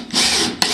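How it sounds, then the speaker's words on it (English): A power drill drives a drywall screw into wood while building a bumble bee house: a short, close, loud whirring burst, with a brief sharp spike as the screw seats at the end. "what I'm going to do is spend a little bit of time just drilling these in."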